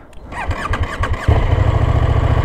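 A KTM 1390 Super Duke R Evo motorcycle cranks with a whining starter, then its engine catches and settles into a loud, steady idle close by.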